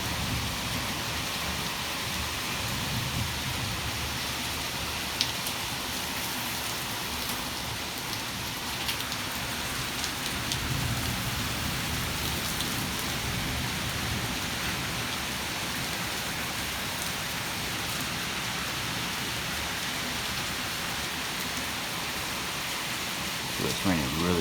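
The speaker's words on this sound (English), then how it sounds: "It's raining really hard out here." Heavy rain pours down during a severe warned storm with 40 mph wind, a broad, steady roar of drops on surfaces lasting throughout, with a few brief knocks and a faint low rumble beneath.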